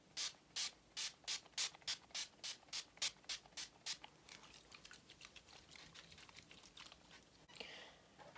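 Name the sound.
Urban Decay setting spray sprayed on face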